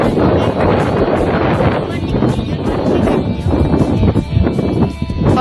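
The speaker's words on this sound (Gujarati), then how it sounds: "પવન બહુ આવતો છે પવન છે" Strong wind buffets the microphone in a loud, continuous roar that swells in gusts throughout.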